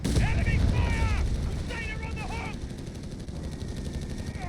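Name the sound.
gunfire and explosions in video game Company of Heroes 3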